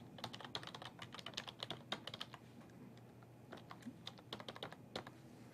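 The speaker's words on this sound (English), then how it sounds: "we're going to have to type in a custom string" Keys clatter on a computer keyboard in a quick, fairly faint burst that slows and thins out toward the end.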